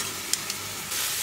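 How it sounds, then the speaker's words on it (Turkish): Chopped onions and garlic frying in a pan, a soft continuous sizzle with a couple of brief clicks and a slight swell in hiss near the end. "Soğanlar pembeleşene kadar kavuruyorum."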